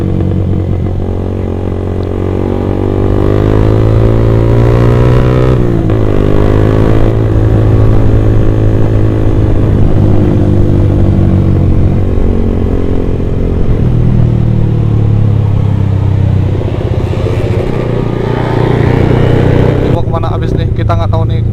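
A Honda CRF supermoto motorcycle accelerates and rides at night, its engine droning steadily with rising and falling pitch through the whole stretch, close and loud, while people talk over it.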